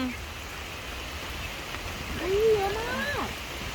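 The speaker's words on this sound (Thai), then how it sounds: "ฝนตกมาเล่นน้ำฝนกันด้วย" Rain falls steadily over a canal-side garden cafe in Pattaya, a continuous close hiss with a voice briefly rising over it near the end.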